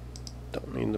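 A computer mouse gives two quick, light clicks close by, followed by a moment of brief speech.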